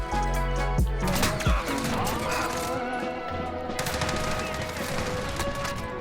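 Rapid gunfire from a video game fills the whole stretch, dense automatic bursts and heavy shots running loud and continuous with a few sharp impacts near the start.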